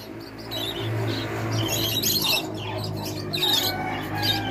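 During free-flight training a pet bird keeps up a busy stream of bright chirps and tweets, fairly close and steady throughout, over a constant low hum, with no one speaking.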